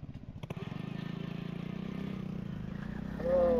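A Hero Honda motorcycle engine runs steadily while being ridden, its close, even throbbing pulse holding a constant pace before swelling louder near the end.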